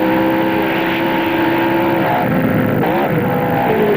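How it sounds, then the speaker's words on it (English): A Ferrari sports racing car from the 1967 BOAC 500 at Brands Hatch pulls away from a pit stop, its loud engine note rising and shifting pitch steadily over other nearby race machinery, with no talk. "The first Ferrari of Stewart and Amon comes in for its last crucial pit stop."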